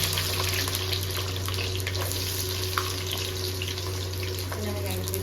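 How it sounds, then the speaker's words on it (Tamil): Small onions fry in hot oil for a fish curry, giving a steady close sizzle and crackle with a constant background hum throughout, fairly even in level. "வெங்காயம் பொரிய ஆரம்பிச்சிருச்சுங்க"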